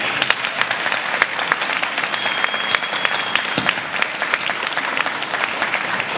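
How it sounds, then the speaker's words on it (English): Applause from an audience at an After School Arts Program young writers event, dense steady clapping with no speech, sustained at an even level throughout. "a round of applause for all of those guys"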